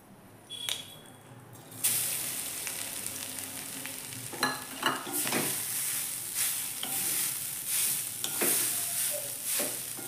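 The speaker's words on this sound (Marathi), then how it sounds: "थोडं तूप घालून खोबरं भाजून घ्यायचे" Grated coconut roasts in a little ghee for fried modak filling, a quiet start giving way to a close, bright sizzle with scraping stir strokes and occasional sharper crackles in an uneven rhythm.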